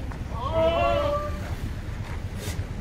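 A goat bleats once in a wavering, drawn-out cry, close by, over a low rumbling background.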